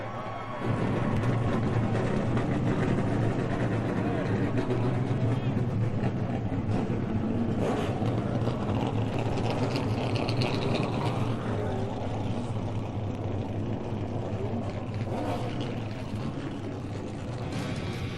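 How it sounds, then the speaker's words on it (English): Short track race car engines at Richmond starting and then running together, a loud dense sustained roar with low rumble that holds steady throughout, a voice faintly audible underneath. "Drivers, start your engine!"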